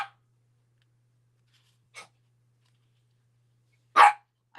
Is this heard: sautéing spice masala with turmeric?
no